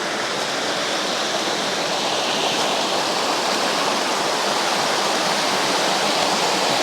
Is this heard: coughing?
no